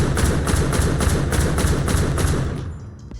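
A gun add-on in Minecraft Bedrock fires a rapid, steady string of about a dozen close, loud gunshots that abruptly stop, leaving a fading tail and faint clicks.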